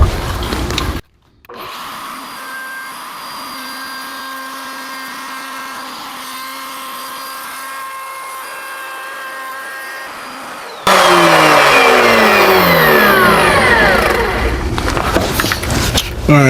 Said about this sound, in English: see if I can get the camera underneath the bench so you guys can actually see the routing process